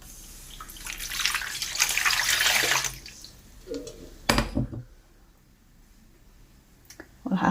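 Water runs from a tap and pours into a large bowl holding a spoonful of yeast for Iraqi round bread dough. The splashing rush lasts a few seconds and is followed by clinks and knocks of kitchenware, close by.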